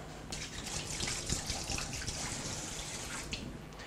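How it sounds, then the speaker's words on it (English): Hands being washed under a running kitchen tap after handling raw pork, a soft steady splash of water continuing throughout, faint and close, with no talking. "Make sure you do wash your hands properly"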